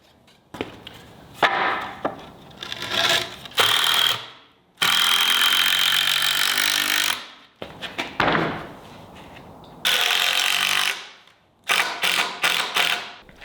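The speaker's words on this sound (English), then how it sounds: "I love getting to use the framing nailer" A framing nailer drives nails into wood studs, with sharp pneumatic bangs and clattering handling knocks broken by long, loud stretches of hissing or whirring noise, all close by and without speech.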